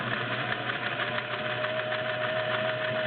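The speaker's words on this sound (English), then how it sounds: "I'm sewing with a vintage metal bobbin." A vintage Singer 503A Slantomatic sewing machine with its zigzag cam fitted, stitching with a metal bobbin: a steady, close mechanical whirr and rapid needle chatter run unbroken throughout.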